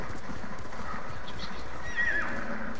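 In the video game Ghost of Tsushima, a horse whinnies loudly near the end, with hooves clip-clopping steadily under a dense, noisy background.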